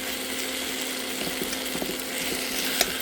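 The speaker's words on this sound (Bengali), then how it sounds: "এগুলো ভালো করে মশলাগুলো কষিয়ে নিচ্ছি।" Spices and green peas sautéing in a pan, with a steady low sizzle and occasional light stirring clicks, fairly quiet throughout.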